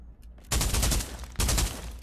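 Rapid bursts of automatic gunfire from a gun in the VR shooter Pavlov, two loud close strings of shots separated by a short pause, sharp and dense with no talk.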